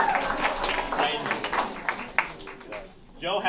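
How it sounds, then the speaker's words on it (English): Audience applause for bluegrass and old-time performers at a concert night, a dense wash of clapping that tapers off near the end before a voice returns. "So give yourself a round of applause, guys."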